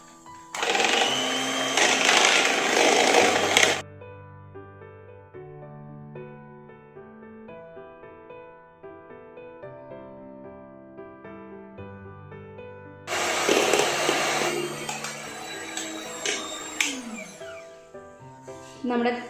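An electric mixer whips cream in bursts: a loud buzzing whir for a few seconds, a quiet stretch with background music, then the motor returns faster and just as loud near the end.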